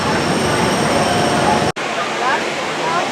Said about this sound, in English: Comes the monorail.